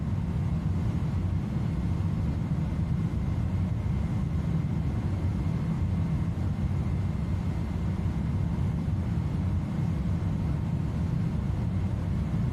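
An iniBuilds Airbus A310 in Swissair livery climbs after takeoff out of Geneva in Microsoft Flight Simulator, a steady, unbroken low engine drone with broad rumble throughout.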